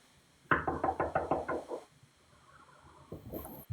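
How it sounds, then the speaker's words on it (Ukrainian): A rapid run of about seven knocks lands on an apartment door from the inside, then a short second burst of knocks follows after a pause, fairly close and clear. "і як і підходь до дверей і зсередини постучи в двері"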